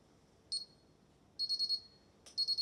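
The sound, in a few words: burglar alarm being armed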